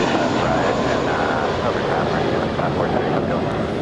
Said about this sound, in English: And off goes JetBlue 1124 to JFK, A321.